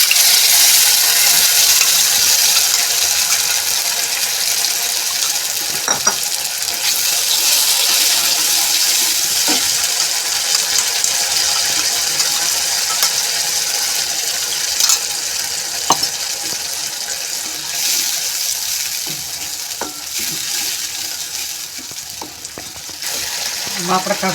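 Tomato puree sizzles steadily in a hot pan while an Indian sev usal curry is cooked, giving a loud continuous frying hiss with occasional stirring clicks and scrapes.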